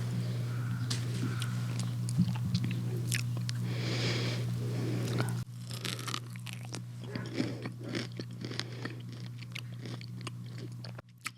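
Close-up chewing of crunchy fresh strawberries with soft crunches and wet bites, steady mouth sounds over a low background hum that cuts off partway.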